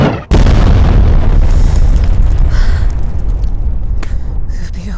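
In a military video game, an artillery shell explodes nearby with a sudden loud boom. A long rumbling roar follows and slowly fades, with faint crackles and debris sounds afterward.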